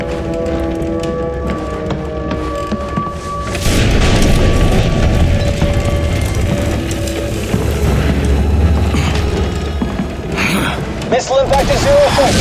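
A missile impact explosion in The Bureau: XCOM Declassified lands as a loud, low booming rumble that swells and lingers, with voices and game sounds over it.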